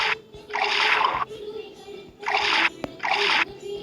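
Cartoonish liquid pouring sounds from a color-sorting puzzle game, heard as three or four short splashy gurgling bursts separated by brief pauses, with a steady tone underneath.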